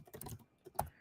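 Quick, soft keystrokes on a computer keyboard as a password is typed, a short cluster of taps followed by one sharper key press, close and quiet.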